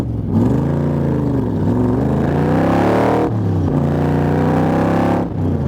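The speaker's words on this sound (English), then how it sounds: "I tell you what, that small block is making power. Sounds awesome." A Shelby Cobra replica with a small-block V8 revving hard while driving, two loud close pulls with rising pitch, each cut off by a brief gear-change drop.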